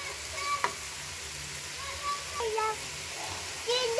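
Chopped carrot, onion and green chili cook on a low flame with a soft, steady sizzle and a few light utensil scrapes and taps. The sound is close and fairly quiet, with faint voices now and then in the background.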